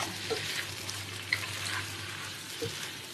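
Char kueh teow flat rice noodles stir-fried in a pan: a soft, steady sizzle with occasional light scrapes and clinks as the noodles are tossed, heard fairly close but at low volume.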